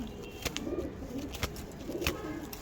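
A pigeon is held in the hand, giving a few soft, low coos close by, with faint rustles and sharp brief knocks scattered through a quiet background.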